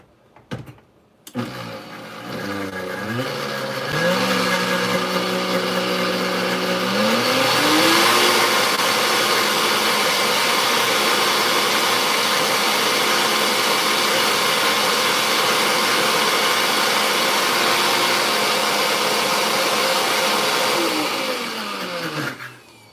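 A blender whirs as it blends almond milk cheese sauce for chipotle mac and cheese. It starts up, climbs to a loud, steady roar that runs for about twenty seconds, then winds down, with no talk.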